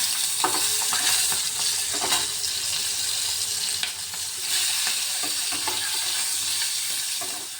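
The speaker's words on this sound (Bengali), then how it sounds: "এখানে আমি মাছটা ভেজে নেব।" Steady, loud sizzling of fish lightly shallow-frying in a pan, with occasional scraping and stirring clicks throughout and no talking.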